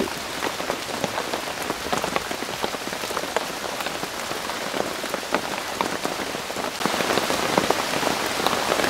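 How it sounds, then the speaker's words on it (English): Heavy rain drums steadily on a tarp in a wood, a dense, close, continuous hiss of drops that swells slightly louder toward the end, with no voices. "This rain's getting silly now."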